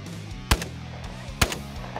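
Two sharp shotgun blasts at clay targets on a shooting range, each a loud crack with a short ringing tail, about a second apart, heard over a low background hum.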